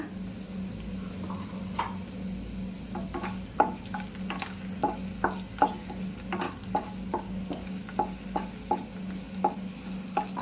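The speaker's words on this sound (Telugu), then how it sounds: "కొద్దిగా ఎల్లిపాయలు ఎర్రగా వేగనియాలి" Onions fry in oil with cumin, mustard seeds and dried red chillies for a greens dish. A low, constant sizzle runs underneath repeated sharp taps and scrapes of a spoon stirring the pan, close and clear, with no talk.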